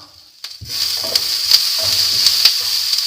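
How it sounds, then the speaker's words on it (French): Onions fry in oil in a pan over lowered heat, giving a loud, continuous close sizzle broken by regular sharp scrapes and clacks of stirring, with no voices. "maintenant que les oignons commencent à griller"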